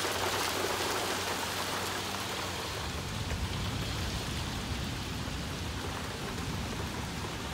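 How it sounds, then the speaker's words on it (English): Big raindrops pouring down in a windy afternoon storm, a dense, loud, steady hiss of rain on surfaces with low rumbling early on, no voices. "Big, huge raindrops."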